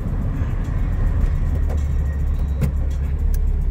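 Volkswagen Beetle engine running while driving and shifting gears, a steady low rumble with loud road noise throughout, no talking.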